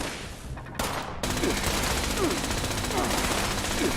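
An automated turret in Fallout 76 lets off a sustained fusillade of rapid gunshots, starting more thinly and then settling into a dense, loud, continuous stream of fire.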